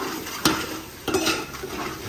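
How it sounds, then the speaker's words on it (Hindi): Dishes are washed in a village kitchen, with metal pots and pans clattering in two sharp knocks over a steady background of running water and scraping utensils. "धो रही है बर्तन"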